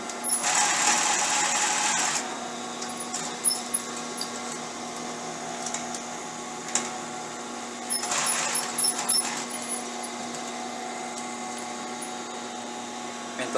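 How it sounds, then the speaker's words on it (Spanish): A sewing machine runs a long stitch along a trouser front pocket, in two separate bursts of steady motor whir, the first about two seconds and the second shorter, with quiet handling in between. "el resto lo podemos hacer con la puntada más larga de la máquina para hacerlo más rápido y para gastar menos hilo"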